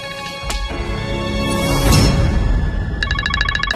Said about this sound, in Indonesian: Kayak suara HP-nya Mas Adi.